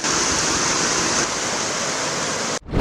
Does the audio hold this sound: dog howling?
no